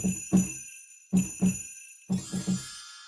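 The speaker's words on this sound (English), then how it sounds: "Little sleigh bells here." Small virtual sleigh bells jingle in three short shaken bursts, each a quick double or triple shake, close and clear with no talking.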